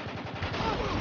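Muffled gunshot in Spec Ops: The Line, a single dull burst over low rumbling game ambience, heard at a distance with a faint voice underneath.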